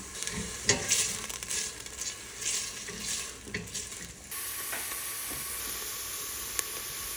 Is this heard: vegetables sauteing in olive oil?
yes